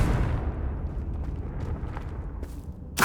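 A Confringo blasting spell goes off in Hogwarts Legacy as a low, rumbling burst that slowly fades, with a sharp crack at the very end.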